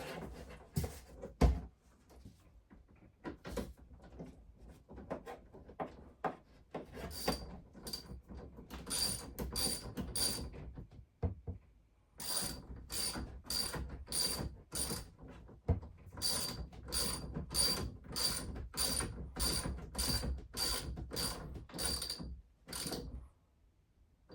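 Battery terminal connections being tightened in an RV with a ratchet, a long run of quick metallic clicking pawl strokes in bursts, close and fairly loud, with no talking.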